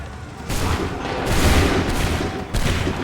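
Musket volleys in Assassin's Creed III, loud rolling bursts of massed gunfire booming in overlapping waves, with a fresh crack near the end.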